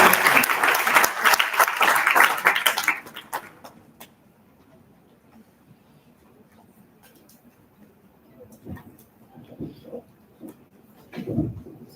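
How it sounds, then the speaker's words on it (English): Loud audience applause at a university event for about three seconds, then it fades into quiet room noise with a few scattered claps and small sounds. "Let's welcome Mr. Mohammad Ibrahim with a huge round of applause"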